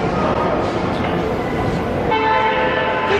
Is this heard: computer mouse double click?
no